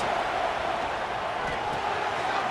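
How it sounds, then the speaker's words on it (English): An Oregon vs LSU college football stadium crowd roaring loudly to help their defense: a dense, sustained wall of noise with no breaks across the clip. "Listen to this crowd just shaking the girders of this place, trying to help their defense."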